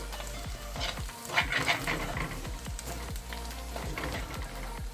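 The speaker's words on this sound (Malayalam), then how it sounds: "ഇനി ഇതും കൂടി ഇട്ട് നന്നായിട്ട് ഇതൊന്ന് നമുക്ക് നന്നായിട്ട് ഇളക്കി ഒന്ന് കൊടുക്കാം." Chilli-spiced chatti chicken frying in a pan is stirred in quick, repeated scraping strokes over a low, continuous sizzle, fairly quiet and close, with no talking.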